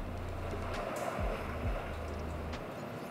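Sea waves and wind in a scene from a Thai drama series: a steady, continuous wash of surf and blowing air over a low rumble, with no voices.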